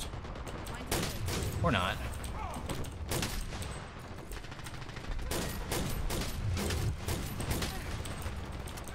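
Rapid gunfire bursts from the online shooter Dirty Bomb crackle repeatedly through a busy firefight, with sharp shots recurring every second or so while a player talks over the action.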